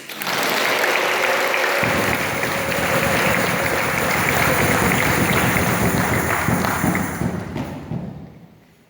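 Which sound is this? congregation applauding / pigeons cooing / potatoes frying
congregation applauding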